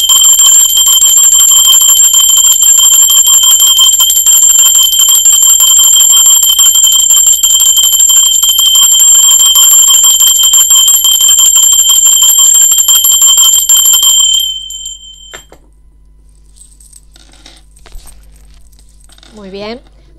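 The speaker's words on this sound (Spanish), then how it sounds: "No se asusten por el mensaje de la campana, es una frecuencia muy alta" A bell rung to open a tarot reading sounds loud and continuous with bright, sustained ringing tones for about fourteen seconds, then fades out, after which brief faint sounds and a short vocal sweep follow.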